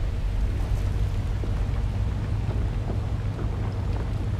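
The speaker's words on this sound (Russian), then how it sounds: "Там еще какая-то дрель уползла." Underground drill burrowing in the survival game Volcanoids: a dense, continuous rumbling grind with heavy low-end roar and gritty noise, steady and loud throughout with no speech.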